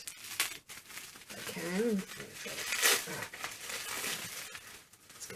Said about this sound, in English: This is something big here that's wrapped up also. Let's get this unwrapped.